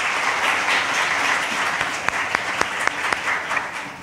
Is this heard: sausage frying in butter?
no